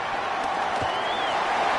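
A stadium crowd at an Illinois versus Ohio State college football game roars and claps during a punt return, a dense, steady cheer that fills the whole stretch without a break.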